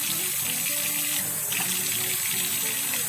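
Hot tap water streams from a faucet as fiber is rinsed by hand, a steady, close gushing hiss with slight shifts as the flow is disturbed.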